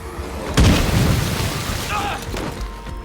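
A video game explosion in State of Decay 2 bursts with a heavy boom, then a rumbling decay and scattered debris sounds, while a player's voice talks over the game audio.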